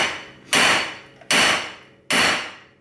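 Three hard hammer blows knocking 12mm wheel studs out cold from a wheel hub, each a sharp metallic bang with a ringing decay, spaced about three-quarters of a second apart, loud and close with no talk.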